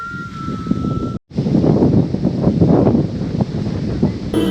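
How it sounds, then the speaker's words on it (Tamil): Cold, misty wind in the Ponmudi hills of Kerala rumbles hard against the microphone in loud, gusty buffeting, cut by one brief dropout, with no voices. "இந்த பனி காற்று அப்படியே மேகமூட்டத்தோடு இருக்கிறது"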